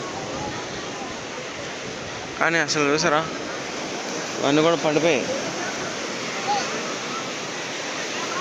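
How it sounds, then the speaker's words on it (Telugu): Rough sea surf washing steadily onto Vizag beach as a broad, constant roar, with someone speaking briefly over it in two short bursts. "ఎంత అగ్రెసివ్గా ఉంది సముద్రం చూడండి"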